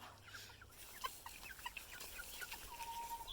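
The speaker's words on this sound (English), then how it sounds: "I like to grow chickens. Chickens feel nice." Chickens on a small farm cluck softly with several short, scattered clucks at a distance, faint against a quiet outdoor background.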